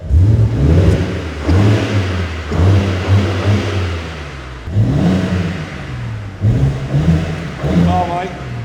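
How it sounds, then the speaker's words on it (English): A supercar's engine is revved several times in short bursts with gaps between, loud and close, while people chat nearby at a UK supercar competition. "Give it a rev."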